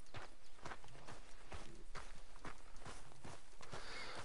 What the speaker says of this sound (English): Try to call my horse.